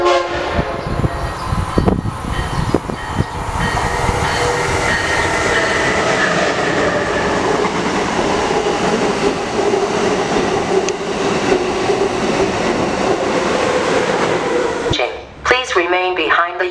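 A train draws into and runs past the station at Old Saybrook, a loud, steady rumble of wheels and carriages that fills the whole stretch, with a sharp burst of noise at the end as it clears.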